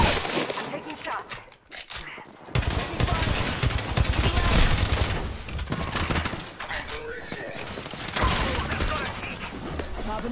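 Dense, loud bursts of rapid gunfire and impacts in the Apex Legends battle royale shooter, firing almost continuously after a brief lull near the start, with in-game voices mixed in.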